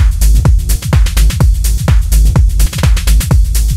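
Electronic mix of a punchy stereo kick drum with delay and reverb over bass and a mono sub, thumping in a steady, driving pattern with echoing tails, loud and upfront with no voices.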